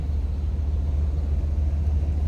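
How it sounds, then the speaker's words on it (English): A 1984 Oldsmobile Toronado's 307 V8 idles smoothly, a steady low rumble with an even pulsing beat, close and continuous throughout. "Listen how smooth that 307 runs"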